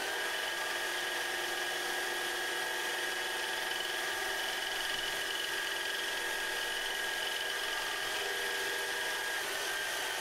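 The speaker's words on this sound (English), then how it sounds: "You will occasionally hear the shaft speed slow and then pick up again as the material functions" Lubricant friction test machine with a spinning shaft, a steady high-pitched whining drone held continuously at close range with no speech.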